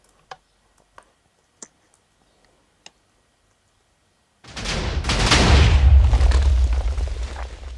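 Cannon firing in a block-building video game: a few sparse ticks, then a sudden loud roaring boom and rumble of explosions swelling and lingering for several seconds.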